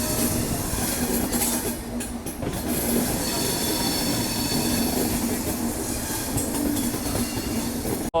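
The Mumbai Central Duranto Express departing Rajkot Junction rumbles steadily along with continuous wheel noise and faint metallic squeals, a loud, unbroken rolling sound with no voices.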